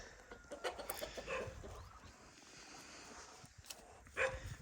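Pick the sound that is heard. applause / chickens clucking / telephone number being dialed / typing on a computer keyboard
chickens clucking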